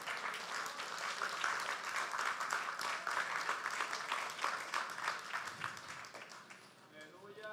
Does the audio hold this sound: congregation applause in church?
yes